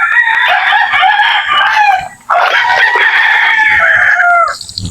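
Chickens tethered outdoors on hot weather crow loudly and continuously, with two long overlapping cock-a-doodle-doo calls separated by a brief dip, plus some clucking.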